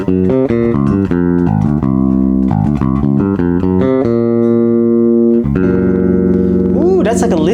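Bass guitar playing a permutation pattern across different strings, with a Lydian feel: steady, plucked, ringing notes in a continuous loud line, then a longer sustained section, with a brief voice near the end.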